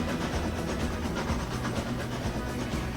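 The Broadway Limited train passes by in the game Transport Fever, a steady, loud rolling rumble with faint rhythmic clatter and a hissing wash throughout, with no talking.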